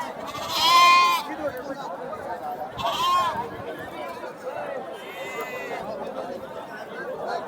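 Goats and young goat kids bleat repeatedly at a goat market over a steady murmur of a crowd chattering, some calls nearby and loud, others fainter in the busy background.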